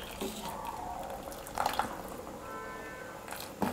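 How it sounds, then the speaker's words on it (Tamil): Water drains from cooked rice tipped into a strainer for street-style egg fried rice. A soft, steady trickle runs close by, with a few sharper drips and small splashes. "இந்த மாதிரி ஒரு வடிகட்டியில் சாதத்தை எடுத்து போட்டுக்கோங்க."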